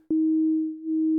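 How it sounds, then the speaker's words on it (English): A U-he RePro-1 synth's self-oscillating filter sounds a pure, steady sine tone, starting abruptly and holding one pitch with a slight dip in level partway through, alone and clean. "Self-oscillating, very nice. So you can effectively make a sine wave."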